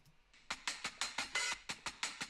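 Unprocessed acoustic hi-hats in a choppy pattern tick along steadily, about a dozen short, crisp hits in a tight rhythm, quiet and alone.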